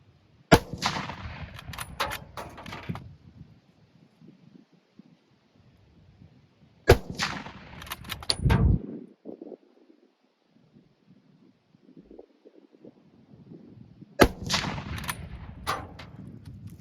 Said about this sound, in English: 3 shots, military surplus ammo.